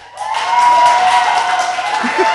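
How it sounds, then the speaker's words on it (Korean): Studio audience at a talk show claps briefly for an arriving mayor, a short burst of applause that swells quickly and holds for a couple of seconds. "자, 박수!"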